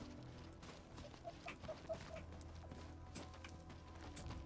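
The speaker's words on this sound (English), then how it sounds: "I heard birds or something." Bird calls ring out in the game Arknights Endfield, faint clucking and chirping notes scattered over a steady ambient background hum.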